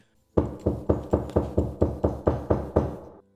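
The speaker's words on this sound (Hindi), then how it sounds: "3 बजते ही चुकंदर देव ने दरवाजे पर दस्तक दी।" Knocking on a door in an animated story: about eleven evenly spaced, firm knocks in a steady rhythm, close and clear, with nothing else heard.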